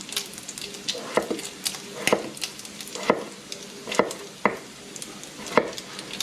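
Potatoes fry in hot bacon grease, sizzling softly with sharp, irregular pops and spatters every second or so, close up.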